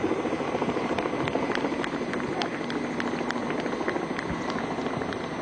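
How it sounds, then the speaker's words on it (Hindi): An Indian Navy helicopter fitted with long-range early warning radar flies past at a Navy Day display, its steady loud rotor and engine roar continuous throughout with a faint regular rotor chop. "Long range early warning radar की विशेष क्षमता वाला यह हेलीकॉप्टर भारतीय नौसेना की ताकत बढ़ाता है।"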